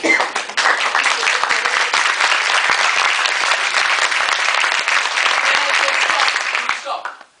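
A crowd claps continuously during a simple clapping game at a campus gathering, dense, loud applause sustained for several seconds before fading out at the end.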